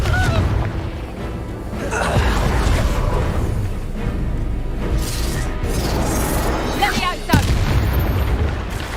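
Repeated explosive blasts from the Bombarda and Confringo spells in the video game Hogwarts Legacy, booming bursts and crackling impacts layered over game combat noise, with brief voiced spell calls mixed in.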